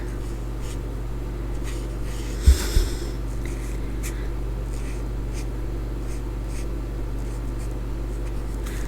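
A calligraphy pen nib scratching across card while lettering greeting cards, heard as soft, close, intermittent strokes over a low hum, with a couple of louder scuffs and breaths but no talk.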